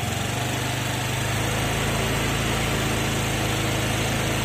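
A Honda Vario 125/150 scooter with a stuttering, misfiring throttle response, its engine running close and loud with a steady buzzing drone that rises after the first second as the throttle opens and then holds a high, constant rev.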